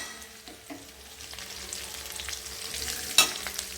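Garlic, dried red chillies and curry leaves fry in hot oil with a steady close sizzle, soft crackles and a sharp pop near the end, no voices.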